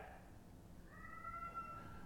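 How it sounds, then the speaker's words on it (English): A small house cat gives one faint, drawn-out meow partway through, heard at a distance over steady low room hum. "That's my little old cat."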